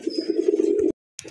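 Pigeons cooing up close, likely a pair of smooth-feathered birds kept for sale: a steady throaty coo runs for most of a second, breaks off into a short silence, then another coo begins.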